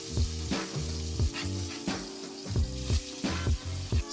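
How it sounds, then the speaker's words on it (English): Shrimp burger patties frying in a hot pan: a steady close sizzle punctuated by regular low thumps and scraping pulses, moderately quiet, with no voices. "We'll press our patties down lightly to ensure that they keep solid contact with the pan. This is going to create browning."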